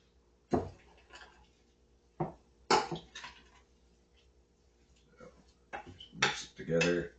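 Cranberry relish being mixed with a utensil, producing intermittent clinks and scrapes against a bowl, quiet between sporadic louder strokes.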